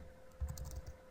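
Fingers tap quickly across a computer keyboard, a short burst of soft close keystrokes over a faint steady electronic hum.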